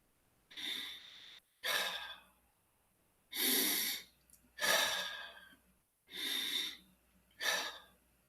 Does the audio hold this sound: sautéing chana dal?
no